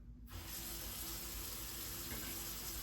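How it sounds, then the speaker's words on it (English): A water tap turned on at a sink for handwashing, sending a steady, full rush of running water that begins abruptly and continues evenly up close with no talking. "Turn on tap."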